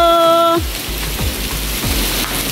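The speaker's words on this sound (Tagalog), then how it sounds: "2 araw nang umuulan" Steady rain falls on a surface during a downpour that has lasted two days, a dense even hiss continuing alone after a brief tone at the start.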